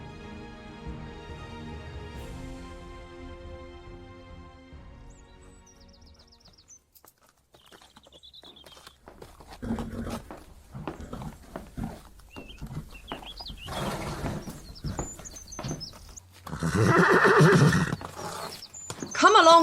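Horses in a stable give several loud whinnies and neighs, with hooves clopping and shuffling on the floor, some calls near and some farther off, against quiet background sound.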